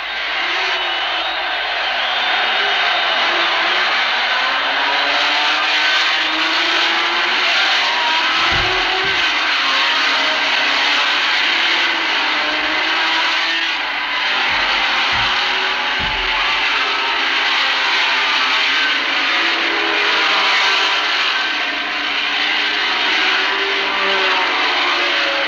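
Race car engines snarl and buzz together at the start of the 1964 24 Hours of Le Mans, including Pedro Rodriguez's Ferrari, a dense continuous roar of many cars heard from a distance.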